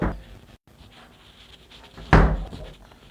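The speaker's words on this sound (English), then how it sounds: "Let's just close the door." A door is shut indoors after coming in from the cold, a single solid thunk near the end of the clip, preceded by faint rustling and handling noises.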